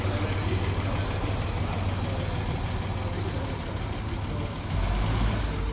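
The engine of a 43-year-old Mercedes-Benz idles steadily with an unhealthy knocking noise, a constant low rumble that stays close and loud throughout, with a slight rise near the end.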